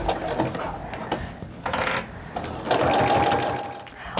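Sewing machine running a long basting stitch around an oven mitt, a steady close mechanical whir with brief pauses and restarts across the stretch.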